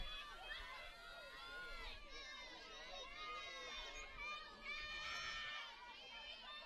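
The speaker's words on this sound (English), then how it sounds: "Clearfield Falcon dugout trying to cheer on her teammate" Clearfield Falcons softball teammates cheer from the dugout during a state game, a steady mix of high shouting and chatter from a crowd of girls that runs throughout, with no single voice standing out.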